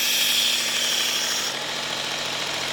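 A Work Sharp Ken Onion Edition Elite MK.2 belt knife sharpener running, a steady motor whine and belt hum held close and loud, easing slightly in pitch partway through, with no talking.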